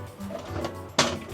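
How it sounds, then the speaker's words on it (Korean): A single sharp, hollow metallic knock rings out close by as a hollow metal workbench panel is struck, against a low background hum. "안에가 퉁퉁 비어있는 소리가 들리시죠?"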